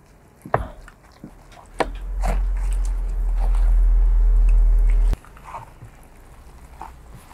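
A raw paprika pepper is bitten with a sharp crunch, followed by soft wet chewing and munching sounds close to the mic, with a low rumble in the middle.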